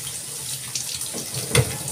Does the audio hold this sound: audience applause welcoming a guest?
no